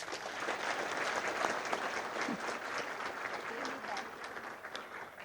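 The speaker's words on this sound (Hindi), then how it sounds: "इन लोगों के लिए ताली बजाओ." Audience applause at a gathering in Leicester, steady dense clapping from a crowd sustained throughout, with voices mixed in underneath.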